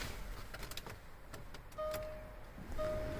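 A 2012 Range Rover Sport's ignition powers up with a newly cut aluminum smart key, bringing soft clicks and handling noises followed by two clear electronic chime tones and a low hum.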